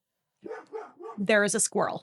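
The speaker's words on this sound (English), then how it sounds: "Sorry for the barking dog." A dog gives a few loud, sharp barks close by, cutting in right after a person speaks briefly.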